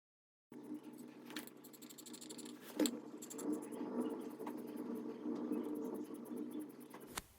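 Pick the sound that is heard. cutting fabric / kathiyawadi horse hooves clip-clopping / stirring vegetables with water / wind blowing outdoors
cutting fabric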